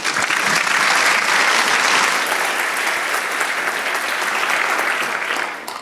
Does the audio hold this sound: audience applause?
yes